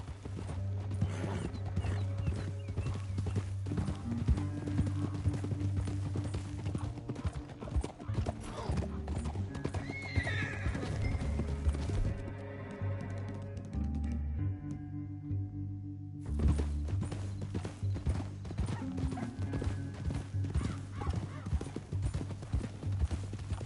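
Horses in the Red Dead Redemption 2 video game clip-clop at a steady trot with a brief whinny, layered over game ambience. The hooves fade briefly midway, then resume.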